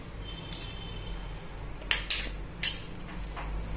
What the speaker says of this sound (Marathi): हा चमचा काढून घ्या, त्याला लागलेली साई व्यवस्थित काढा।